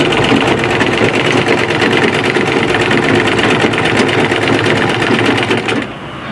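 Sewing machine back stitching fabric for a scrunchie, a fast steady loud motor whir with rapid needle clatter running continuously, then easing off at the very end.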